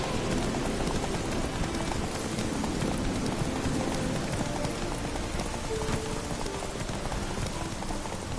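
Roach the horse galloping in The Witcher 3, rapid rhythmic hoofbeats pounding steadily under a wash of rain-like noise, close and continuous throughout.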